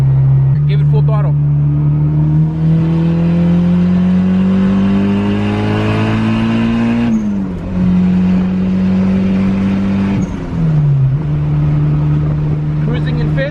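A turbocharged Honda Civic EG Type R build accelerates at full throttle in fourth gear, its engine droning loud and close from inside the cabin with a steadily climbing pitch, a brief dip at each shift and a whooshing turbo undertone.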